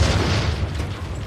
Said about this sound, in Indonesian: timbul sebuah ledakan dari dalam rumah